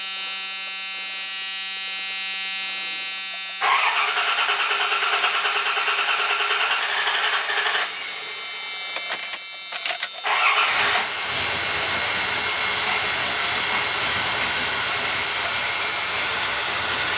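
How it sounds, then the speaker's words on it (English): A 1993 Dodge Dakota pickup with a 3.9L engine is cranked after a fuel filter replacement: a steady whirring crank, then the engine catches around four seconds in and settles into a loud, continuous rough idle, with a brief stumble near the ten-second mark. "then I'm going to try to start the truck"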